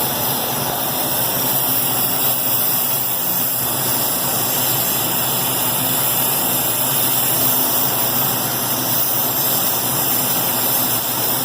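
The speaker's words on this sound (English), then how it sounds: "So I'm just heating up this aluminum with the acetylene torch." An acetylene torch heats aluminum gears still mounted on a bicycle crank arm, producing a steady, unbroken roaring hiss at a constant level throughout, close by with no speech.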